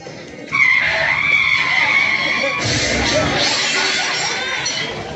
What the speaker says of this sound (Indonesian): seketika itu pun kendaraan tersebut menabrak ibu dan Laras